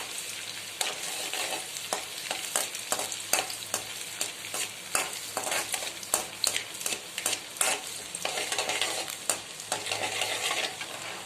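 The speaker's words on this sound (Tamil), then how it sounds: "இஞ்சி பூண்டு நல்லா வதங்கட்டும்." Ginger and garlic frying in a pan for wheat egg noodles, a steady soft sizzle broken by frequent sharp scrapes and taps of a spoon stirring, close and moderately quiet with no talking.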